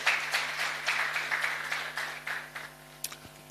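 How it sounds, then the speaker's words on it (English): Audience applause at a book launch event, a steady patter of clapping from a modest crowd lasting a few seconds, with a low electrical hum underneath. "Let's give her a round of applause as well."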